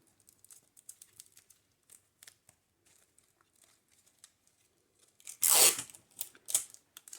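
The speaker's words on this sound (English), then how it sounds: "so I'll put a bit of tape over the end" Sellotape torn from the roll and pressed onto a paper-flower wedding bouquet made from old book pages, with faint crinkling paper handling, then two sharp, close tearing bursts near the end.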